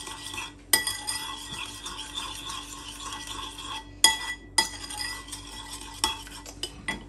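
A spoon stirs mayonnaise sauce in a bowl, giving a steady wet scraping with sharp clinks against the bowl at irregular moments, close and clear with no voices.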